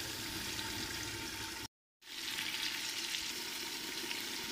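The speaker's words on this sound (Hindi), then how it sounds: "ये जो प्याज और ये टमाटर हैं ये हमारे अच्छे से गल जाएं।" Onions and tomatoes fry in a pan for a spiced masala, a steady close sizzle that cuts out for a moment before resuming.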